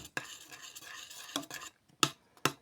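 Homemade processed cheese with frozen dill stirred in a pot, heard as a series of close scraping and clinking strokes of a utensil against the pot, with short pauses between them.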